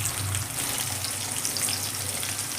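Chopped onion fries in oil with cinnamon, making a steady, close, hissing sizzle throughout with no talking.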